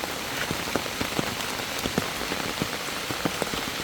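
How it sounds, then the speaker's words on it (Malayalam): Heavy rain pattering close on hard surfaces, a continuous dense hiss dotted with sharp individual drop hits, with no voices. "ഭയങ്കര വെള്ളമൊഴുക്കാണ്, ഭയങ്കര മഴയാണ്."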